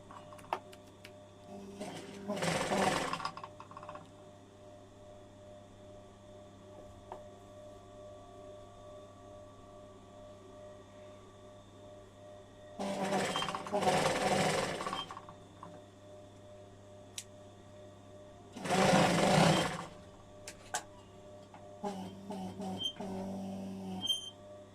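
A sewing machine runs in three short bursts, chain piecing quilt seams, each a rapid whirring stitch rattle of a couple of seconds, separated by quieter stretches of low hum and small handling clicks.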